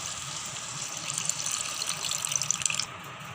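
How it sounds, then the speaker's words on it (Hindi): Water poured into a pan of paneer in mustard gravy, a steady close splashing gush that swells slightly and stops abruptly near the end, with no talking. "अब हम इसमें पानी डालेंगे।"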